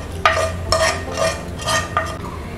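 Litchi payesh with ghee-fried almond pieces is stirred in a pot, several scraping, clinking strokes of a spoon repeating in a loose rhythm over a low background, close and clear, no voices.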